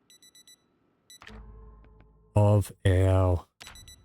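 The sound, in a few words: alarm clock ringing in video game Project Zomboid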